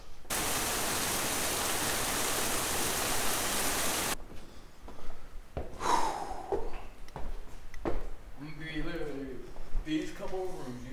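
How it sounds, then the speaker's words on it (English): Rain falls outside as a loud, steady hiss for the first few seconds at a reportedly haunted house under investigation, then cuts away to a quieter space where people talk. "I'm gonna walk out in the rain."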